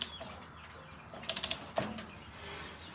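A torque wrench ratchets on a Ford YT16 tractor set to about 150 foot-pounds, giving a quick burst of four or five sharp metallic clicks, then a single softer click, over quiet background hiss.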